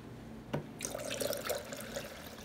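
Water poured into a measuring cup for a cinnamon rice horchata drink, a short splashing trickle close by following a single tap, heard alone.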